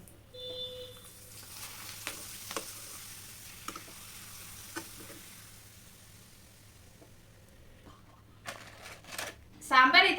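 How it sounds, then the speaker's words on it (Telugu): Papad (appalam) goes into hot oil to fry alongside a drumstick sambar, with soft sizzling and scattered ticks before a louder burst of crackling frying near the end, while a voice speaks over it. "ఆయిల్ అయితే వేడెక్కిపోయిందండి ఇప్పుడు అప్పలం వేసేసుకుందాం"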